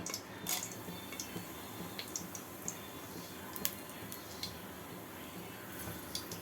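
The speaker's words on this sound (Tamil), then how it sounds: "எண்ணெய் நல்லா சூடாயிடுச்சு. இப்போது கரம் மசாலா போட்டுக்கலாம்." Whole garam masala spices, cloves, cinnamon and cardamom, frying in hot oil, giving a soft steady sizzle with scattered small crackles and pops throughout, faint and close.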